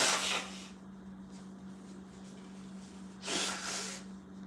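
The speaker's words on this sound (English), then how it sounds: "I have to blow my nose." A person blows their nose in two loud, breathy bursts, one at the start and one near the end, with quiet room hum between.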